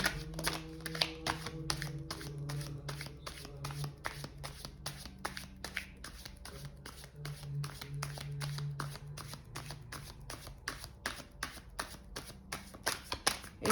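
Tarot cards are shuffled rapidly and repeatedly up close, a dense, rhythmic riffling patter that continues without pause, with a low hum beneath.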